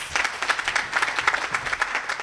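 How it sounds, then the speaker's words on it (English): A seminar audience at a provincial evaluation and research event applauds, producing a moderate, fluttering patter of many hands clapping that rises and dips unevenly throughout, with no speech on top. "Let's give him another very big round of applause."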